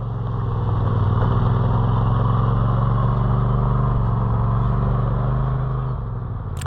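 A Polaris RZR Pro XP off-road vehicle engine runs steadily nearby, a loud, even mid-pitched drone with constant rumble that holds level throughout and dips slightly at the end.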